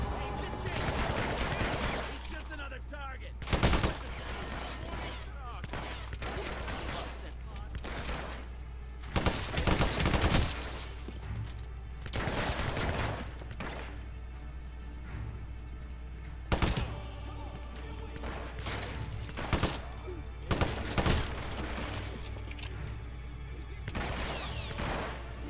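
Gunfire in a firefight in Hitman Absolution: scattered loud shots and short bursts break out repeatedly over a steady low hum, with quieter stretches of background noise between them.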